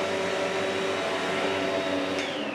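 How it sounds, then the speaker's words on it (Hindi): A hair dryer provided in a rented room runs continuously at close range, a loud steady whooshing blow with a whining motor tone throughout. "इसी तरह से ये हेयर ड्रायर भी इन्होंने दिया हुआ है, मैं आपको चला के दिखाता हूँ।"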